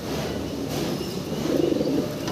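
Pigeons in a cage at a pigeon farm give a soft, low cooing that swells midway, set against a steady background hum; no one speaks.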